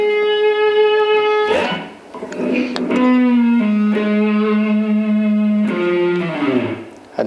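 Slow electric guitar solo: sustained notes with bends and slides that glide between pitches, clear and upfront with light distortion, alone with no talk.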